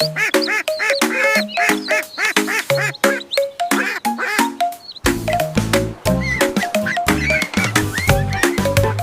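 Cartoonish duck quacks repeat rapidly in a bouncy rhythm over a musical backdrop, loud and upfront.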